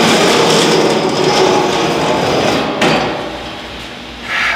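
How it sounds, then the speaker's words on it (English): A hammer and dolly beat out a damaged stainless steel panel on a Lynx grill, making rapid, loud, close metallic blows that run together into a dense clatter and ease slightly near the end. "I'm going to work the back side with a hammer and dolly."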